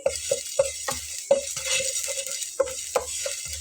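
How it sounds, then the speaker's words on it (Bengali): Spices and washed mustard seeds dry-roast in a frying pan, stirred constantly, with rhythmic scraping and clinking strokes of a utensil against the pan over a faint dry rustle of seeds, close and without speech. "খুব ভালোভাবে এগুলোকে রোস্ট করে নেব অনবরত নেড়ে নেব যাতে করে পুড়ে না লেগে যায়"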